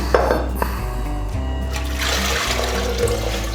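Water gushes and splashes into a cooking pot while making chana dal, a loud, continuous pour with a gurgling, filling tone lasting a few seconds.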